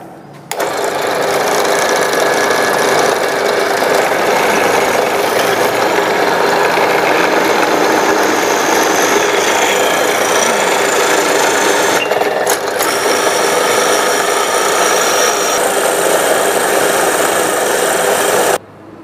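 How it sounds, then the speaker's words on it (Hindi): A drilling machine bores a hole in a metal workpiece with a twist drill, giving a loud, steady whirring drone that runs unbroken for nearly twenty seconds, briefly dipping once, with no talking. "और फिर इसमें ड्रिलिंग किया जाता है।"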